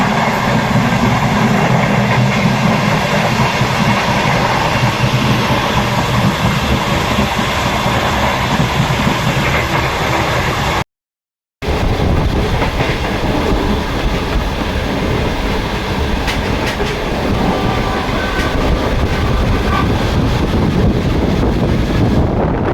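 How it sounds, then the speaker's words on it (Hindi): Shalimar Express running at about 104 km/h, recorded on board as a loud, constant track roar with clickety-clack and wind buffeting, cut by a short silent gap partway through. "बहुत ही ज़बरदस्त ट्रैक साउंड और ये ट्रैक साउंड"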